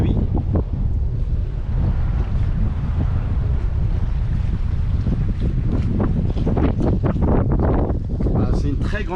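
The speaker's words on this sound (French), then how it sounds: "On a beaucoup de vent aujourd'hui." Heavy wind blows across the wide bay of Marigot, St Martin, at sea, with a constant loud roar and microphone buffeting and a boat's motion beneath it, while someone talks over it.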